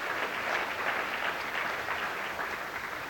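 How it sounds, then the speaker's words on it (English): Audience applause at the opening of Willie Brown Jr. Middle School, a steady wash of clapping from a crowd that holds evenly throughout with no talk over it. "If you'll please give them a round of applause"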